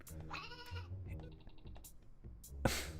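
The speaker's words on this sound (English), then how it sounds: "He needed to get the goat." A goat in the fantasy game Star Seeker gives a few bleats amid a voice and other game noises, quiet overall, ending in a brief louder burst.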